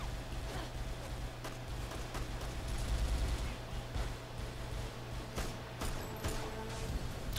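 Gunfire in the game Mirror's Edge, scattered sharp shots and bursts spread over several seconds against a dense noisy backdrop, moderately loud, with faint speech mixed in.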